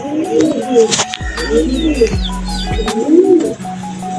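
Racing pigeons returning to their loft coo loudly and close by in repeated rising phrases, mixed with wing flutters and brief clatters.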